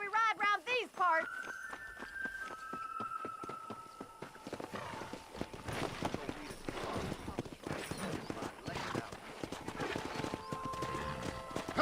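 Clip-clop of horse hooves as a rider sets off in a video game, steady hoofbeats with a brief whinny near the start, running continuously under background game sounds and music.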